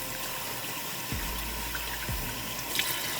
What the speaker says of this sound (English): rinsing the rice. And use your fingers.